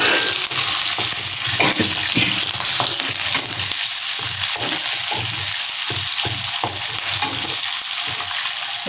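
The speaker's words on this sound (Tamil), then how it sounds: "இப்போ பழுத்த மிளகாய், வெங்காயம் எல்லாத்தையும் போட்டு" Ripe chillies and onions fry in hot oil with curry leaves for a ridge gourd sothi, giving a loud, steady sizzle broken by repeated scraping stir strokes. No one speaks.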